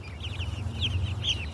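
A mature backyard flock of chickens with young chicks clucks steadily at close range over a low background rumble, with overlapping soft clucks and a few higher squawks.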